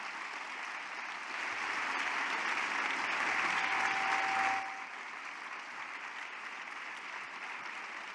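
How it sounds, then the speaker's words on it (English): Steady, dense audience applause fills a hall at the closing poster-award and farewell session of a scientific meeting, holding evenly for several seconds before dropping off abruptly to quiet room tone. "we should give a big applause to them"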